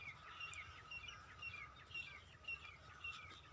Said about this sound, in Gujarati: આ પક્ષીઓનો કલરવ